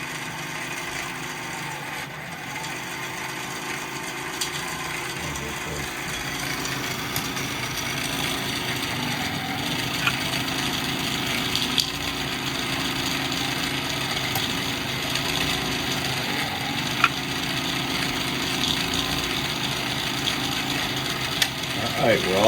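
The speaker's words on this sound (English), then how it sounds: "The axle is spinning a little rod that makes the crane work. And the crane is picking up the load." A small Tyco US-1 electric toy truck crane on a model railroad layout whirs steadily as its spinning axle drives the crane lifting a load, a continuous close motor hum with faint clicks and occasional sharp ticks.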